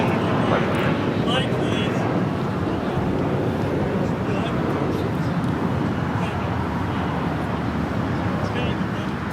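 A United Airlines Boeing 777-200ER in Star Alliance livery moves at Los Angeles LAX with a loud, continuous broadband jet roar, roughened by wind buffeting on the microphone.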